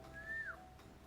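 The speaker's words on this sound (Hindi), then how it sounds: "सीटी" A single person whistles one short rising-then-falling note at moderate level over a faint room background during a comedy stage show, with no speech.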